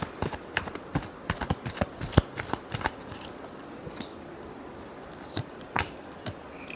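Tarot cards are shuffled with a rapid run of crisp slaps and riffles that thins out into a few sparse flicks, close up and alone.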